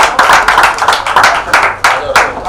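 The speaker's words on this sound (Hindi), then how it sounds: "एक बार तालियां सोनोटेक के लिए।" Audience clapping at a Hindi poetry gathering, loud and close with uneven bursts of hands, mixed with some voices talking over it.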